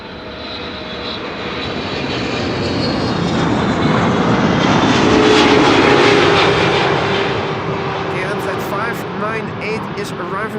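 A KLM airliner, flight 598 arriving from Cape Town, comes in at Amsterdam Schiphol Airport, its engine roar swelling loudly to a peak midway before easing off into a sustained rumble outdoors.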